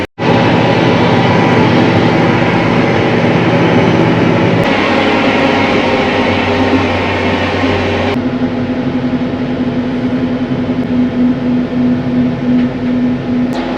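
A tractor engine running hard while working a field, a loud, continuous droning roar close to the microphone with shifts in pitch and load as the machine pulls through the ground, with no talk over it.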